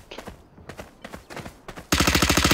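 Valorant game gun firing: spaced single shots for the first two seconds, then a loud, rapid automatic burst with sharp repeating cracks at close range.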